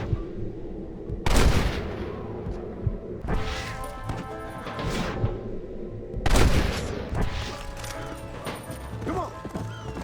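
Gunfire in the Red Dead Redemption video game: three heavy, booming shots spread across the stretch, each followed by a crashing, rumbling tail, with fainter clatter and an occasional voice in between.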